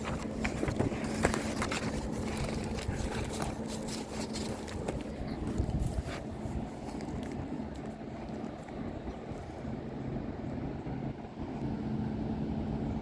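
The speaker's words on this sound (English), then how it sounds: "I'm going to pause here 1 second because it's getting windy" Steady outdoor wind roars and buffets a microphone at a home roof site, a dense continuous rumble lasting throughout with slight gusting swells and no talk.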